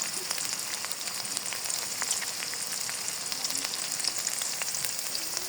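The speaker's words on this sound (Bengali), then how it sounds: "কিউব করা পিস রেখেছিলাম দেখুন এভাবে হলুদ দিয়ে দেবো" Cubed pieces frying in a pan with turmeric and spices, a steady, soft crackling sizzle with scattered pops running continuously and no talk.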